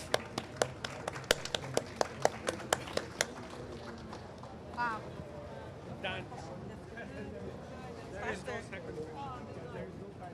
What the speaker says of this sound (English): So big applause for our panelists.